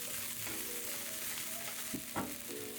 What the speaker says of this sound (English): Now I add chopped green onions.